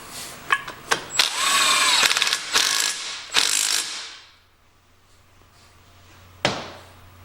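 A bolt is threaded in with a ratchet during stator replacement on a 1971 John Deere 140 garden tractor, giving quick bursts of close ratcheting clicks, then quiet, then one last short burst.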